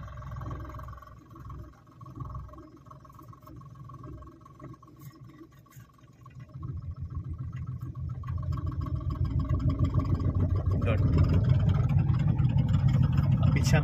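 Inside a car during a driving lesson, the engine idles and then rises into a steadier, louder hum as the learner reverses, while people talk over it.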